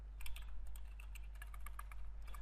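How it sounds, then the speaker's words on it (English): Rapid keystrokes on a computer keyboard while options are entered into a data list form, a steady run of clicky taps, faint and close, over a low constant hum with no talking. "I'm just typing here"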